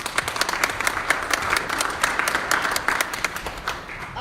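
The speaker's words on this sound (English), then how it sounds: "Let's give them a nice round of applause." Crowd applause for panelists at a Las Vegas winter market panel, a crisp rapid clatter of many clapping hands, close and sustained across the whole stretch.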